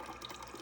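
Water pouring steadily from a Whirlpool refrigerator door dispenser during a measured fill, a soft continuous stream heard alone for under a second.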